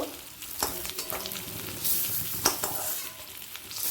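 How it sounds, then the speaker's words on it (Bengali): Eggs fry in oil in a pan, a close, steady sizzle and crackle with occasional sharper pops and stirring scrapes, with no talking. "ডিমটা লাল করে ভাজা হয়ে গেছে"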